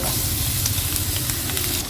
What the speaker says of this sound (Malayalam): ഇനി ഒരു പാൻ അടുപ്പത്ത് വെച്ച് വെളിച്ചെണ്ണ ഒഴിച്ച് അത് ചൂടായി വരുമ്പോൾ അതിലേക്ക് അരിഞ്ഞു വെച്ചിരിക്കുന്ന സവാള